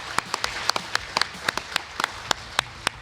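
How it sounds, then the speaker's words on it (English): A small audience gives a sparse round of applause, a handful of individual claps landing irregularly and distinctly over a quiet room, fairly close and modest in volume. "let's give Nancy a big round of applause and the Shriver House"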